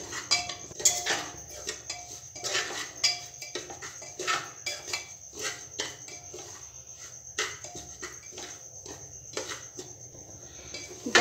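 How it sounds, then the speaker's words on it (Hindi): Broken wheat (dalia) roasting in a pan for a sweet dalia, with repeated scraping and clinking of a spoon as it is stirred, a steady close clatter with faint background hiss and no talk. "दलिया को तब तक भूनना है जब तक इसका कलर चेंज ना हो जाए।"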